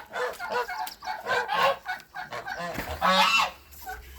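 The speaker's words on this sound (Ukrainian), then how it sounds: "Ось гусям занесу зерно" Several geese honk loudly and repeatedly at close range while being fed grain, their calls overlapping in an uneven, clamorous series.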